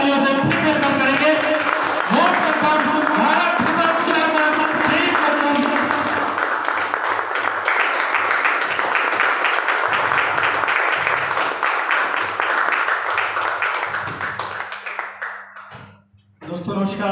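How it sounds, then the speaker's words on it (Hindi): An audience at a motivational talk claps to welcome the speaker, with sustained applause under music and voices before it fades out near the end. "तो पूरा जोरदार तालियों से वेलकम करेंगे।"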